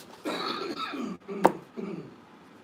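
A single sharp cough bursts out in the middle of a stretch of talking, with voices continuing before and after it.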